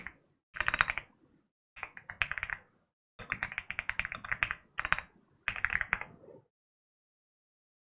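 Close, crisp typing on a computer keyboard at a Windows 11 PC comes in several quick bursts of clicking keys, each separated by short silent pauses.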